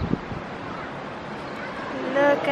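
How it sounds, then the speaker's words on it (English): Ocean waves crash below a lighthouse at the tip of Long Island, New York, a continuous rushing wash heavily mixed with breezy wind buffeting the microphone and swelling slightly toward the end. "I love watching those waves crash"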